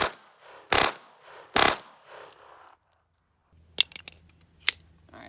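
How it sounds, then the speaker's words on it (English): Taurus TX22 pistol with an FRT trigger firing: two sharp, loud cracks, a short pause, then a quicker cluster of fainter snapping shots. "So across the two mags, I fired a total of 51 rounds."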